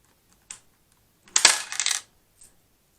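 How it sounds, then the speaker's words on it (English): Coins drop one at a time into a digital coin-counting piggy bank: a short metallic clink, then a louder rattling clatter of a coin rolling through the mechanism, and a faint final click, close and alone. "it says to insert the coins one at a time"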